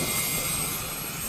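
A Philippine Air Force Sokol helicopter carrying relief goods to Itbayat, Batanes, gives off a steady, broadband rotor and engine roar that fills the whole short stretch evenly, loud and close, with no talk over it.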